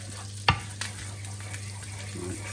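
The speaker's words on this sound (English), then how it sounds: "all the juices and everything's nice and sizzling." Steak dinner ingredients sizzle and get stirred in a pan, giving a steady close frying hiss with a sharp scrape or clack early on and lighter stirring noises after it.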